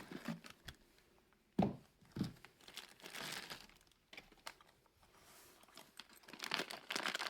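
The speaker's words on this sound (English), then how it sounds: "So I'm going to unbox this 1022 chassis here." Packaging crinkles and rustles while a crimson-red 10/22 rifle chassis is unboxed, with close, fairly quiet bursts of crumpling plastic and paper coming in irregular spurts, a few sharper crackles among them.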